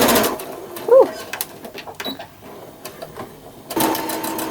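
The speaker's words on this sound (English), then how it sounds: "go ahead and start sewing, and don't forget to back stitch at the beginning" A sewing machine running a straight stitch on pillow fabric, a steady mechanical whir that starts, pauses briefly, and resumes near the end, with faint background sounds in between.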